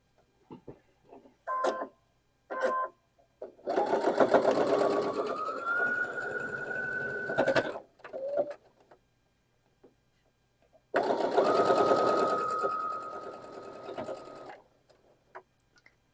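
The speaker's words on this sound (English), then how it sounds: "Now we're going to sew these two pieces together and these two pieces together." A sewing machine stitches quilt block pieces together for a basket quilt block, running in two sustained whirring bursts of a few seconds each, with short clicks and taps from handling the fabric before and between runs, and no talk.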